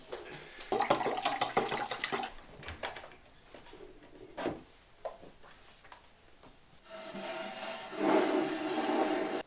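Distilled water poured out, 800 grams, while making a potassium aluminium sulfate solution for crystal growing. Splashing and gurgling comes in bursts with clinks and knocks of containers between them, ending in a sustained steady pour, close and without talk.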